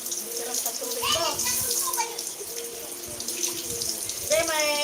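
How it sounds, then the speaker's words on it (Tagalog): Water runs steadily from a tap and overflows, a constant splashing wash under children's voices and chatter nearby. "nag-aapaw ka na ang tubig"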